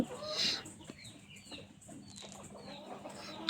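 Kuchinsky Jubilee chickens clucking nearby, a loud cluck at the start followed by scattered softer calls and bird chatter over a low farmyard hum.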